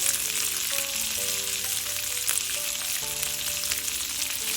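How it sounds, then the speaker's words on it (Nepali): Boiled potato pieces with salt frying in a pan for a peas and potato pickle, a steady close sizzle running throughout with faint stirring and no talk. "यसरी चलाउँदै केही बेर पकाउनु पर्छ।"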